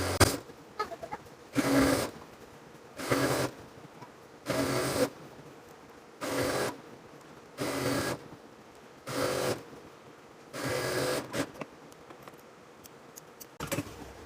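A sewing machine stitches elastic into ladies' pants, running in about nine short, even bursts roughly a second apart, with quiet pauses between runs and no voices.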